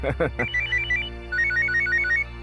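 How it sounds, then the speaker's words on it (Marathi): A telephone rings with a repeating electronic melody in a scene from the Marathi TV serial Mani Umang Jagnyachi; a voice speaks briefly at the start, then the bright ringtone runs steadily over a low background hum. "हा बघ आला फोन माझ्या वाघाचा."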